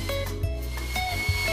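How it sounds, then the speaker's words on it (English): A steady whirring belt sander grinding a stencil off a wooden sign, continuous and close, with slight scraping fluctuations and no talking. "we're belt sanding the stencil off as we go"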